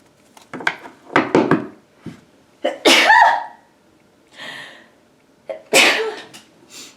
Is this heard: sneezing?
yes